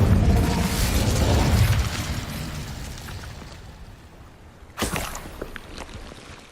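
A fire spell in the game Hogwarts Legacy bursts with a loud rushing roar that fades over several seconds, followed by a sharp crackling pop near the end.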